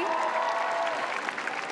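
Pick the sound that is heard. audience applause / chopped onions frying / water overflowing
audience applause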